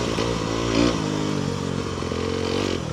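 An Aprilia RX125 motorcycle runs at full throttle. Its engine holds a loud, buzzing high-rev drone that swells briefly and then settles, heard close up with wind rush.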